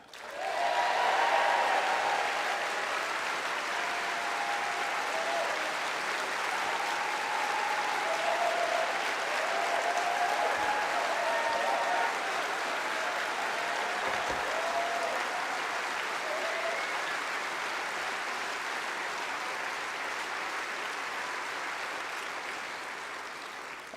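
A large conference audience applauds in a sustained, dense wash of clapping that rises fast, holds loud for over twenty seconds and eases slightly at the end, with scattered cheers and whistles near the start.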